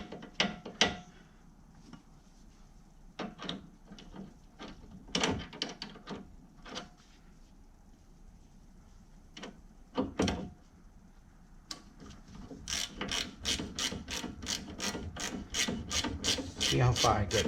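Socket wrench working on a front stabilizer bar link of a 2008–2014 Mercedes-Benz C300, scattered close clicks and scrapes that build into a fast run of ratcheting clicks near the end, with no voices.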